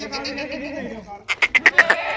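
A goat at a livestock sale gives a run of short, rhythmic bleats, about six quick pulses in a row, heard close and clear after a stretch of background voices.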